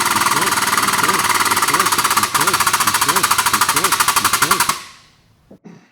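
A hydraulic pump runs up to 3,000 psi while installing a Snap-It Junior tube plug, chugging in loud, steady rhythmic pulses before cutting off abruptly near the end, leaving faint clicks.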